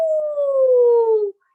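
A single drawn-out, wolf-like howl imitated by a human voice, one smooth tone that slowly slides downward for just over a second before cutting off, loud and close with no other sound.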